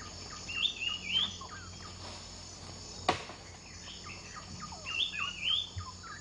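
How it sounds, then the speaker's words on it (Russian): A flying eagle in a Borneo mangrove jungle gives sharp, high whistling cries in two clusters of three or four calls each, set over a constant background of buzzing insects. "клёкот летящего орла"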